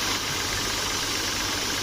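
Japanese three-cylinder agricultural spray pump driven by an electric motor, running with a steady, even mechanical drone and faint rhythmic knocking from the pistons, close and continuous with no talk.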